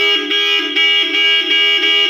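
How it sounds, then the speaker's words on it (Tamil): Car horn from a new Maruti Brezza fitted with classic car accessories, honking in a steady repeated pattern of short and long blasts, loud and close with no one talking. "ஹாரன் அடி."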